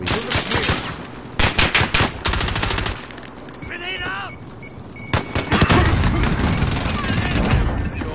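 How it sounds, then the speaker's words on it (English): Automatic gunfire and rapid shots from the video game Warzone come in loud bursts across the whole span, with brief pauses between volleys and voices talking over the fighting. "there's people across the way shooting me"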